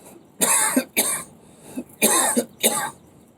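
Four harsh, forceful coughs in quick succession, demonstrating a pranayama breathing exercise, close and loud, with short gaps and a pause in the middle.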